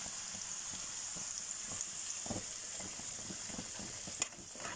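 Eggplant fries in hot oil, giving off a continuous soft sizzling hiss with faint bubbling and a sharp clink near the end.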